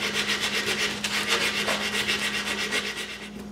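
An aluminum fidget spinner is sanded or filed by hand in steady, rhythmic back-and-forth strokes, a loud, close abrasive rasping with no voices.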